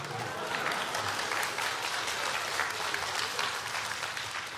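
Audience applause at a live xiangsheng crosstalk comedy performance, a steady dense patter of many hands clapping close by for several seconds, filling the room without letup.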